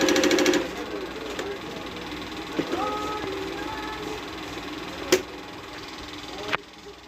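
A Singer DN7 sewing machine runs a simple stitch, giving a faint, steady mechanical whir broken by a few sharp clicks, with a brief burst of louder noise at the start.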